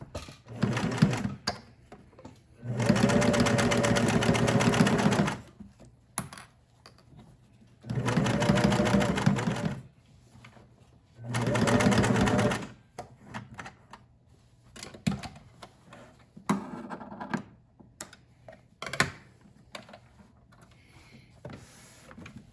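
A sewing machine stitching a fabric cinch bag, running in three loud sustained whirring bursts of a few seconds each, separated by quieter handling noises and small clicks.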